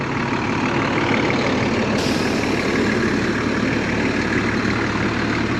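A 2000 Tiffin Allegro Bus Class A motorhome's Cummins diesel engine idles loudly and steadily nearby, a deep rumbling drone with a constant low throb throughout.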